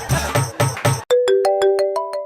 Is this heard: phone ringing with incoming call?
yes